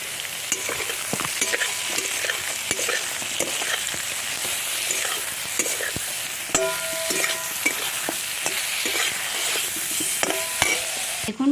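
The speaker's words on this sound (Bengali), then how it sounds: "মাছগুলো ভীষণ লাল লাল করে ভাজা হয়ে গেছে" Pieces of dhela fish fry in hot oil in a pan, a steady crackling sizzle punctuated by frequent sharp spatters and pops, with no speech.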